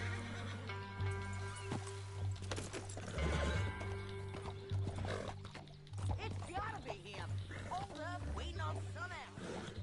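A horse in the Red Dead video game neighs and whinnies several times, with clip-clop hooves and game music beneath, while someone talks over it.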